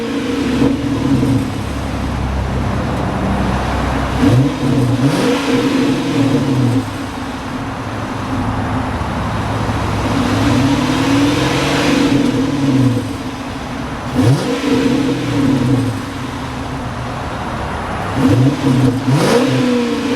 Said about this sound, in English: Great sounding V8.